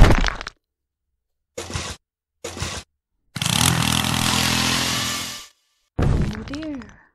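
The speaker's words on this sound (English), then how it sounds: "use a drill." Drill in the prison escape game Escaping the Prison: a sustained grinding whir of about two seconds, preceded by short sharp cracking bursts and followed by a squeaky sound, separated by dead silence.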